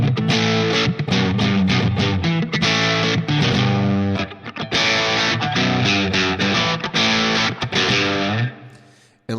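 Distorted electric guitar played through a Line 6 POD HD500 on its Plexi Lead 100 normal-channel model of a Marshall Super Lead 100, sag set to 0: loud, dense riffing with sustained chords and short breaks, ringing out at the end.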